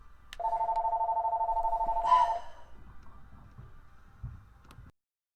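A phone rings once with a steady electronic tone lasting about two seconds, fairly loud and close, followed by quiet rustling and a soft thump before silence.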